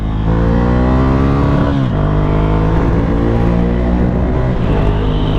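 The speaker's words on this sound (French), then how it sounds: "on va aller voir ce que donne cette petite 797 Monster de 2017. Je vous laisse apprécier le son." 2017 Ducati 797 Monster motorcycle engine and exhaust, loud and close, revving with a rising then falling pitch and a rough, steady exhaust rumble throughout.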